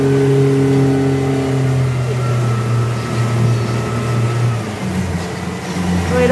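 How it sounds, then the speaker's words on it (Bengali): A speedboat racing at high speed across choppy river waves, its engine droning loud and close with a rising, shifting pitch throughout, continuous and without talk. "প্রচণ্ড গতিতে রয়েছে স্পিড বোট"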